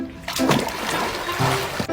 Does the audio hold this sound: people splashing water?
yes